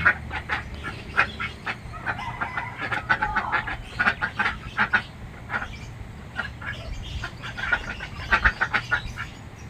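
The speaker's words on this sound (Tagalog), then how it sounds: "alam kung ano yung magandang ibigay na pampaitlog dito sa aming mga alagang itik" Domestic ducks on a small farm quack in short, repeated bursts, several birds calling irregularly and close by over a low background hum.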